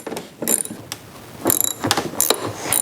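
Ratcheting clicks of a socket wrench loosening a 10mm bolt on a Honda Interstate motorcycle's front fairing, coming in several short close bursts separated by brief pauses.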